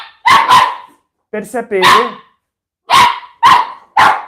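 Young puppies yapping in short sharp bursts, a pair of quick barks, then a longer whiny yelp and three more barks close by, with a brief bit of speech mixed in.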